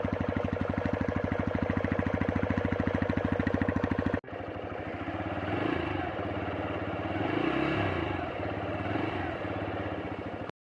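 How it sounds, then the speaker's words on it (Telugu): A 2024 TVS Raider 125 motorcycle engine running, a steady rapid idle putter that cuts off sharply, followed by a revving engine with a rising and falling pitch, close and loud. "ఇంకే బైక్ సౌండ్ అయితే ఒకసారి అయితే వినండి."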